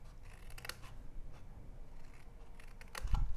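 Two short crisp snips of scissors cutting small angled darts into scored paper for a bunny Easter treat box, quiet and close, followed by a soft handling thump.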